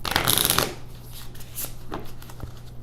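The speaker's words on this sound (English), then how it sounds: "Give this one last shuffle." A Marvel Champions card game deck is shuffled, a brisk riffle burst in the first half second, then a few quieter card taps and shuffles, close and alone.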